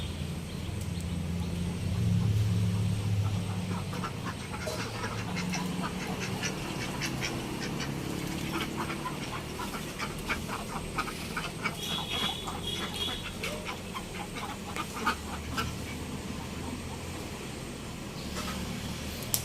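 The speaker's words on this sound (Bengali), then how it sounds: "আমাকে দেখে হাঁসগুলো নামতেছে না" Domestic village ducks quack repeatedly at moderate distance over a steady outdoor background, with scattered calls running throughout.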